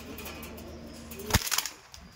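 Imported Teddy pigeon bursting into flight with a sharp, close flurry of wingbeats that quickly fades.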